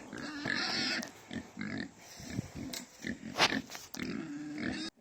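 Pigs on a farm grunt and oink close by, a series of snorting, rumbling calls that overlap and vary in length, with brief squealy bursts between them.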